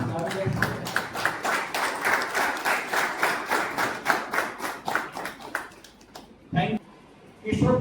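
A crowd at a Lions Club zone social gathering claps to welcome a speaker, a sustained rhythmic round of applause that tapers off, with someone talking briefly at the start and again afterward.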